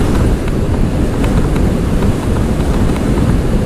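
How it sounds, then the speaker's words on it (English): Strong cross breeze buffets the rider on a motorbike, a loud continuous rushing roar of wind noise with no talk over it. "Obviously, it's a cross breeze."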